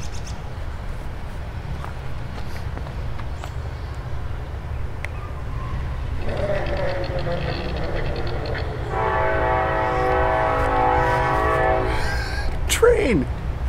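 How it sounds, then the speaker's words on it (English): A train rumbles past with a clattering roll, then a long multi-tone horn blares loudly near the end; a brief voice rises at the very end. "Train!"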